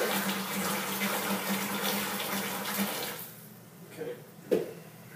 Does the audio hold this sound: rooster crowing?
no